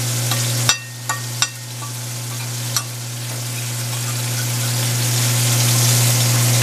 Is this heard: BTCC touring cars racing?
no